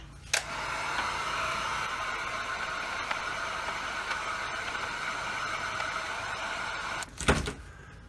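A hair dryer blows steadily on fresh paint in an abstract flower painting, a close, even whooshing hiss that runs almost the whole time, with a brief knock near the start and a clatter as it switches off near the end.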